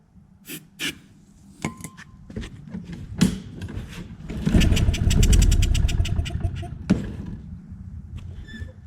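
A Craftsman push mower engine cranking over repeatedly as it tries to start after a shot of starting fluid, with a rapid run of pull-start strokes and a brief sputter, close and fairly loud, amid scattered knocks and handling noises.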